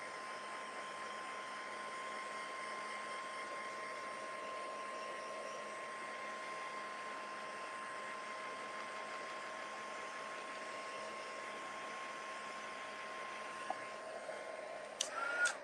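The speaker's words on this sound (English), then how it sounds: "I'm going to put this on low, and I'm just going to lightly hit it with my heat gun to set that white ink" A heat gun on its low setting dries white ink on a card, giving a steady, even airy whir that runs unchanged throughout, ending with a few small clicks and handling noises.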